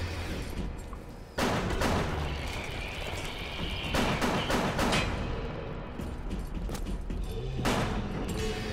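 Gunfire from armor-piercing ammunition in the video game BioShock, several loud booming shots spaced a few seconds apart over a steady rumbling game background, with no speech.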